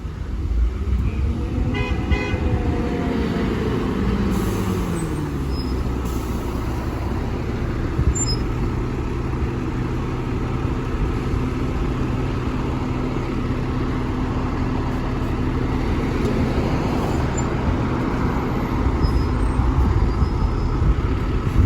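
A bus pulls into a car park at Ashford International, its engine a steady low rumble throughout with a short horn toot near the start, amid continuous station traffic noise.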